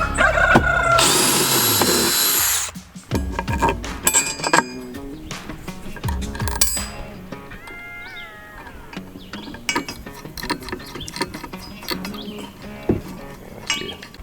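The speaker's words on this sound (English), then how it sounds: "Drill again." A power drill whirs loudly for a couple of seconds while a DIY mini-greenhouse is assembled, then stops, leaving quieter clinks, rattles and handling knocks of parts nearby.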